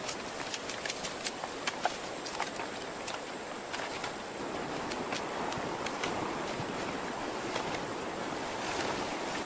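Fresh water runs steadily through a long green bamboo pipe set up in the jungle, pouring over a newly built retaining wall. It makes a continuous close rushing wash scattered with small splashy ticks, and no one speaks.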